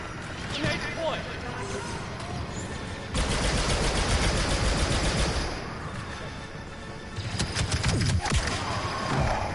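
Rapid bursts of blaster-style gunfire in Star Wars Battlefront 2, clattering volleys rising and falling, with someone talking over the action.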